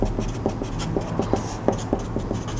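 A pen scratches pattern information onto a paper sewing pattern piece in short, close strokes, with quick irregular scribbles and taps set against a quiet room hum.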